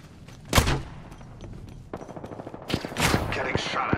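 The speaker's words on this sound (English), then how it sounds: "Getting shot at." Gunfire in the battle royale game Apex Legends, with loud bursts of automatic fire and sharp shots that come and go over about four seconds, mixed with game effects and some footsteps.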